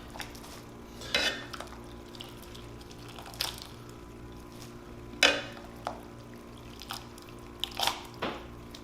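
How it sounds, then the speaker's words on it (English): Pasta goes into a metal pan for carbonara and is tossed, giving scattered clinks and scrapes of utensil on pan over a low steady hum, a few sharper knocks standing out, no talking. "I'm gonna take our bucati, our pasta, and we're gonna add it straight to pan"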